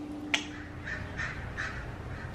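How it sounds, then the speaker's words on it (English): Crows caw outside, a few faint, distant calls spaced apart over a quiet background with a brief sharp sound near the start. "Crows."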